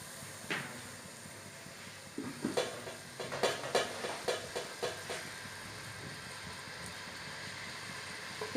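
Onions cooking in a pan with a little oil, a soft steady sizzle underneath a series of clattering stirring knocks and scrapes, fairly quiet overall.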